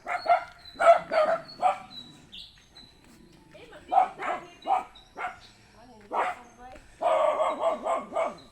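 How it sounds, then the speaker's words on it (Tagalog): A dog barks repeatedly, close by, in short clusters of sharp barks separated by brief quiet gaps. "ayun may aso dito"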